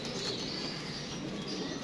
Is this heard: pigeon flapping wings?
yes